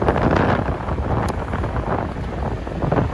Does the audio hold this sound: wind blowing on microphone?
yes